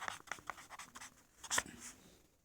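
Pen scratching on paper as a maths teacher writes out a straight-lines problem: a quiet string of short, uneven strokes and taps, close and faint, with no talking.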